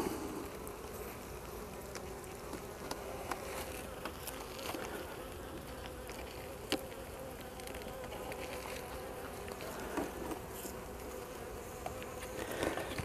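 Honeybees buzz at an open beehive in an apiary, a dense continuous hum of many insects close by, with occasional individual bees flying past.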